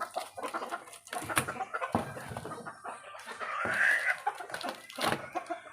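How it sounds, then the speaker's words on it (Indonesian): Many chickens clucking nearby in a small home setting, busy overlapping clucks and squawks with a louder rising call midway, close and constant. "di sini tuh agak rada berisik karena di sini tuh banyak banget ayam ya"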